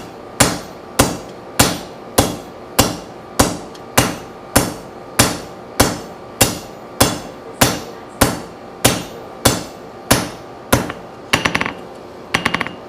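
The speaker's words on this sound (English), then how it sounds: "Now I'm tilting my hammer a little bit towards the center of this." A hammer forges metal stock at an anvil in a steady, evenly spaced rhythm of about twenty loud, ringing blows, ending with a few quicker double hits, with no talking.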